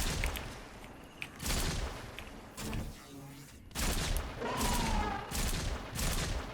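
Repeated bursts of gunfire from the DEATH BURSTER weapon in Fortnite, loud rapid volleys separated by short pauses, with faint game effect tones between the shots.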